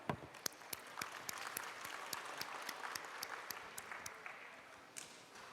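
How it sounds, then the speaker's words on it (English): Audience members at an internet governance forum give themselves a round of applause, a fairly sparse, moderately quiet clapping with distinct individual claps audible through a thin steady patter that gently fades toward the end. "Let's give ourselves a round of applause."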